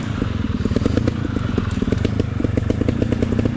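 Trial motorcycle engine working hard up a rocky trail at Pedra Grande, a loud, close, rapid throbbing putter with rhythmic pulses and some rock clatter.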